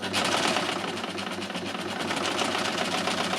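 An overlocker runs steadily and loudly through a hem stitch with a shortened stitch length, a continuous fast mechanical whir with rhythmic clatter and no talking.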